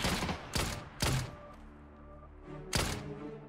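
Gunfire in the battle-royale game PUBG: three sharp, loud shots in quick succession, a pause, then a fourth shot, each with a short decaying tail over faint game ambience.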